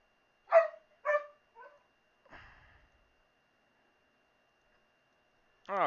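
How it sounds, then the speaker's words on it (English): A dog barks a few times in short yelps, then lets out a quieter drawn-out whine, and a longer howl starts at the very end, close by in an otherwise silent room. "that's Bandit howling in the background"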